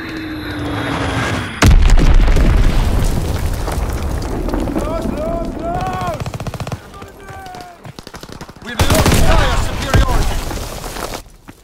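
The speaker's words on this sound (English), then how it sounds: "Enemy bomb incoming! Get to cover!" Enemy bomb blasts in Call of Duty WW2, heavy booms hitting around the two- and nine-second marks amid machine-gun fire, aircraft drone and shouting soldiers' voices, loud and close.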